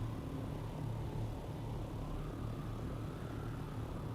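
A helicopter in the Dune Awakening video game flies with a steady, droning rotor and engine hum that holds at an even, fairly faint level throughout.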